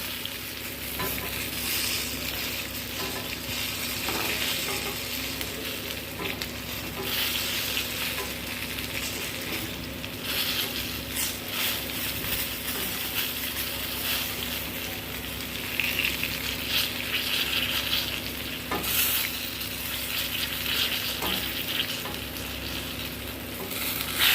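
Eggplant pieces frying in oil with salt and turmeric give a steady dense sizzle, with frequent scraping stirs of a spatula against the pan throughout.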